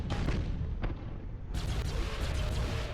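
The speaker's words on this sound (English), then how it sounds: "gonna go try to explode them with some bombs" Bombs exploding against enemy ships in the space strategy game Battlefleet Gothic Armada, heard as dense, loud rumbling blasts that break off briefly and then surge back in a second heavy barrage.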